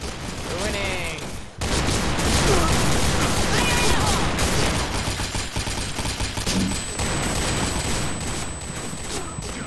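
Continuous rapid gunfire in the online shooter Piercing Blow, dense bursts of automatic shots running nearly the whole time, loud and close, with a voice talking over part of it.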